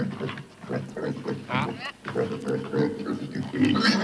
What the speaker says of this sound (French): C'est un cochon.